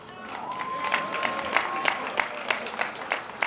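Applause for AP students at a 2020 Crowley High School graduation, a soft clatter of many hands from a distant audience with scattered louder claps and a faint steady tone running underneath.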